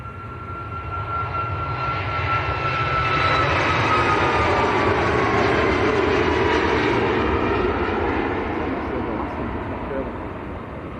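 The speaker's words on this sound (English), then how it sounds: "the Alaskan Air Dreamliner. It's just pretty much gone straight over the top" An Alaska Airlines Boeing Dreamliner jet passes overhead near Manchester Airport, its loud engine roar swelling and then slowly fading across several seconds.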